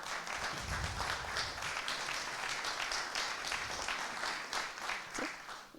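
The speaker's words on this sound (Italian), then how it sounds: "Non a me gli applausi." Audience applause at an Italian public talk, a dense continuous wash of clapping from a crowd, moderately distant and fading slightly at the end.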